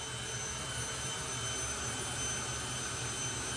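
Jet dragster engines running at a drag racing event at Santa Pod Raceway, a steady roaring whoosh with a thin whine on top, constant and unbroken, heard from some distance.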